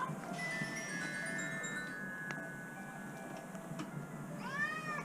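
A domestic cat meows faintly a few times against a steady background hum, with a clearer rising and falling meow near the end.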